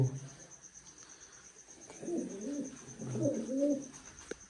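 Two pigeons perched in a dark shelter give low, rolling coos in two bursts, moderately close and alone with no talk.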